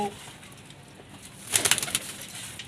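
A Teddy pigeon kept at a home coop coos faintly against a soft noisy background, with a louder flurry of rustling bursts partway through.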